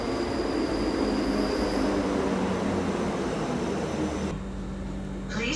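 Passenger train on a ride to Milngavie, with a steady loud rumble of wheels and carriage interior throughout, faint squeals near the start, and a drop in level as the train slows near the end.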